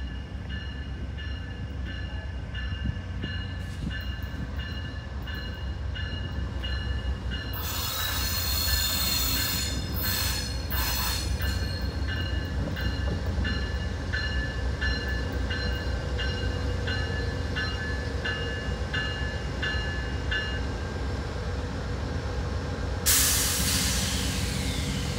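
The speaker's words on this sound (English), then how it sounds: "Even better. Amtrak train." Amtrak passenger train P091 rolls past in Winter Park, Florida, with loud, sustained metallic wheel squeal over a heavy rumble, broken by sharp bursts of hissing. It fades and then surges again near the end.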